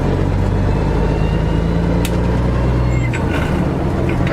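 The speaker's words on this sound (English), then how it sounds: "It's what they call floating or speed shifting." American truck engine with an 18-speed gearbox being floated through gears, a loud steady diesel drone whose low hum drops at a shift near the end, with faint clicks and rattles.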